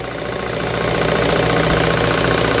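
A tailor's sewing machine motor runs steadily after its drive belt tension is adjusted, giving a close, continuous mechanical hum with a faint rhythmic vibration throughout.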